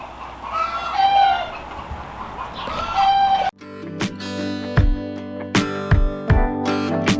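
Farmyard chickens cluck and call in repeated bursts, close and clear, followed by a sharp cut into a sped-up stretch of clattering knocks and thuds.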